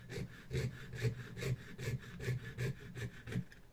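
A jewellery hacksaw cuts a small workpiece in a steady back-and-forth rhythm of about ten rasping strokes, close and fairly quiet, with no speech.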